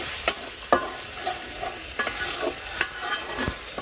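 Spice paste for prawn malai curry, worked with coconut milk, fries in a pan while a spoon stirs and scrapes in repeated sharp strokes over a soft sizzle, close and with no speech.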